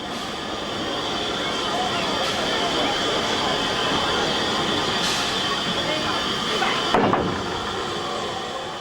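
U-Class Mogul 31625 steam locomotive runs on a line near Guildford, a steady loud rolling rumble and hiss of the train in motion with a sharp clank near the end.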